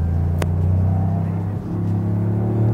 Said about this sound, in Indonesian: mesin 3 silinder yang paling gurih, yang paling enak buat didengerin.